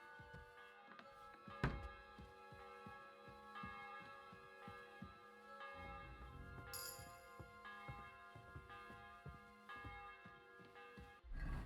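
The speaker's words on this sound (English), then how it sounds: "The bell's ringing for hands the 5th time." A church bell tolls repeatedly in Kingdom Come: Deliverance II, its ringing harmonics sustained over a steady ambient hum, with occasional soft knocks and a brief high-pitched burst midway.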